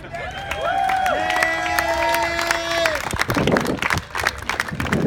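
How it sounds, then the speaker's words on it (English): At a memorial tribute, a crowd breaks into clapping and some cheering, with mixed voices and a brief tonal sound at the start as the applause swells and then scatters. "This is the time you clap."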